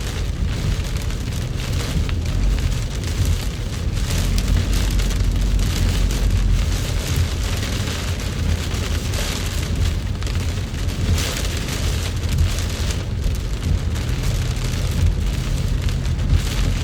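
Heavy rain in Jeddah drums steadily on a car from inside, a dense, loud, unbroken roar of water with deep low rumble throughout and no voices.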